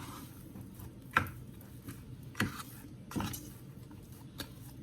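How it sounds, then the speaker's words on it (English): Bread dough for a sandwich loaf being mixed by hand with a plastic spatula in a bowl, quiet and close, with a few soft thuds and sticky squishes spaced out over a low room hiss. "And just with a spatula, plastic spatula."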